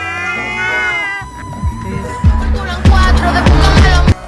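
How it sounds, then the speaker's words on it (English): A seagull giving loud, cat-like mewing calls, followed by a series of sharp rhythmic thuds and scrapes, close by, with no talking. "Mom! I caught a seagull!"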